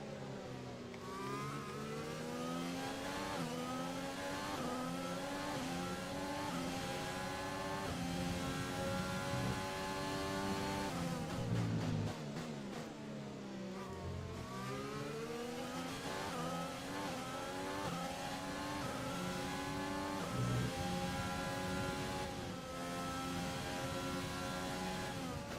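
An F1 car in the F1 2020 video game accelerates through repeated rising engine whines as it shifts up through the gears, with a brief dip and tire scrub midway, loud and continuous with no talking.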